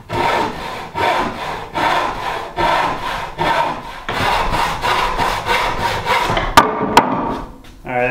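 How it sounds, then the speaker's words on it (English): Handsaw cutting a wooden board for a built-in bench seat in an off-grid cabin, rhythmic back-and-forth rasping strokes, close and loud, about a dozen pulses with two sharp knocks near the end. "I was able to get a more accurate cut with this handsaw than I could have with the circular saw"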